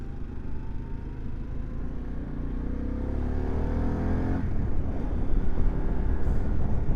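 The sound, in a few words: Harley CVO Pan America motorcycle accelerating in sport mode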